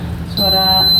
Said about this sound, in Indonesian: Itu suara nasi ya,